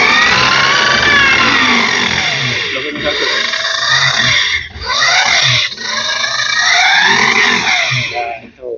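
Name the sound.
Honda CUV-e electric scooter motor running as throttle is twisted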